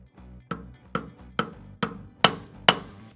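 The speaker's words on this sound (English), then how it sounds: "you need to finish it off with a few light taps from a hammer" Six evenly spaced light hammer taps drive a dowel pin into a brake hand release, each a sharp close metallic knock with a brief ring, the last two louder and brighter in tone.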